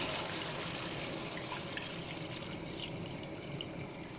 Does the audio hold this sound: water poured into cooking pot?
yes